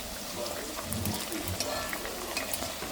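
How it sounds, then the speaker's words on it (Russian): Potatoes frying with spices in a pan make a steady, close sizzle with a few soft stirring scrapes and no voices. "Пусть жарится картошка со своими специями."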